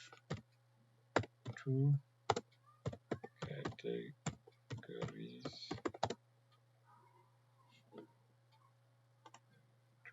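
Keystrokes on a computer keyboard while writing a document, a run of sharp clicks in bursts with short pauses, mixed with a nearby voice talking, then sparser taps fading out.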